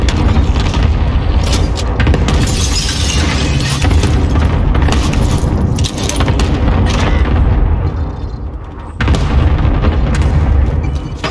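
Repeated heavy cluster airstrike explosions in Call of Duty Warzone, Plunder: Blood Money mode, booming loud and continuous with a deep rumble, easing briefly near the end before another blast.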